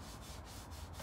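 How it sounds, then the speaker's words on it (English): Steady dry rubbing of sandpaper on wood during a lyre mandolin build, likely with sanding sealer of pumice and shellac, a continuous close scratchy hiss with no talking. "sanding under the belt now"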